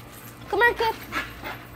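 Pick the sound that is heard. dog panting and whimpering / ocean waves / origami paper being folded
dog panting and whimpering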